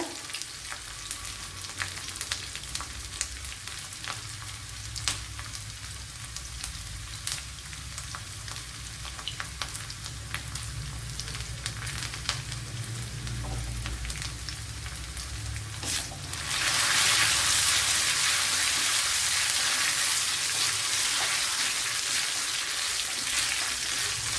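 Shallots and garlic fry in coconut oil with mustard seeds, a steady close sizzle with scattered crackles and pops. Past the midpoint the hiss swells suddenly louder and brighter, and no one speaks.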